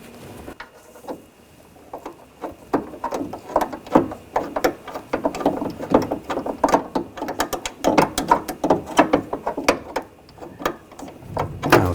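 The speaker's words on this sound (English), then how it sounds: "I'll tighten these down." A ratchet tightens the nuts on the window regulator of a 2000–2006 BMW X5, sounding as rapid clicking bursts in repeated strokes that grow busier toward the end, close up, with no voices.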